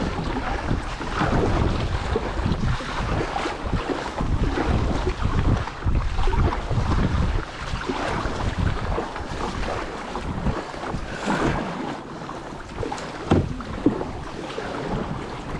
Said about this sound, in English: with doing the kayaking